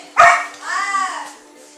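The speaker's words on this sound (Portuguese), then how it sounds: "Tô aqui gravando e o cachorro fica latindo," Dog lets out a single sharp bark followed by a longer whining, drawn-out yowl, close and loud in a quiet room.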